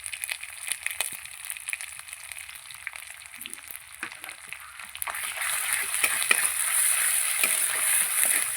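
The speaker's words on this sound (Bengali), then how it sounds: "মশলাটা কষিয়ে নেবো দিয়ে দেবো লবণ" Spice paste with ginger and chilli powder frying in a pan for egg devil, heard as a steady soft sizzle with scraping stir clicks that grows louder and brighter partway through.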